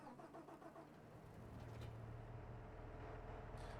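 A tractor engine cranks and fires up in Farming Simulator 25, settling into a steady low idle rumble that grows slightly louder and holds through to the end.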